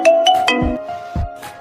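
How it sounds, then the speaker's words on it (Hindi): A mobile phone ringtone plays alone, a short melodic tone pattern of several bright notes with a few low thumps between them, close and clear. "एक दिन जंकुक का फोन आता है।"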